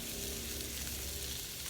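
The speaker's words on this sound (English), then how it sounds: "hear that bacon sizzling" Bacon sizzles steadily in a pan on a steel cooktop alongside shrimp and vegetables, a dense continuous crackle and hiss with a low rumble underneath and no talking.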